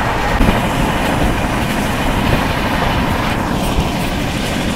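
Onboard the Barbil Jan Shatabdi Express just after leaving Kharagpur in heavy rain, a dense, even roar of the moving train and wet track fills the whole stretch at constant loudness, with no one talking.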